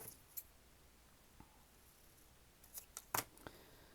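Scissors snipping paper in a journal, a few faint quiet cuts with a small cluster of sharper snips near the end, no talking.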